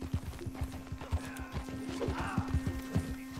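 Rapid hoof clops and thudding impacts of horses colliding in a cowboy video game clatter in an uneven rhythm, with a steady electronic hum running underneath.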